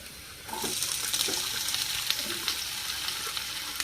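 Potato pieces for a crispy aloo fry drop into hot oil in a pan, and a steady broadband sizzle follows, moderately loud and continuous, with small scraping stirs scattered through it.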